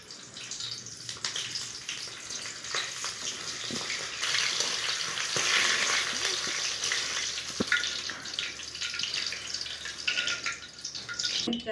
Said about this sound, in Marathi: आता ही मिरच्या तळून घेते थोड्याशा